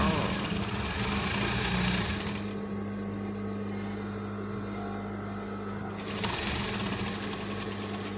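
Sewing machine stitching fabric for a scrunchie at a 1/4 inch seam, a steady close hum for about two seconds, then a pause and a second short burst near the end.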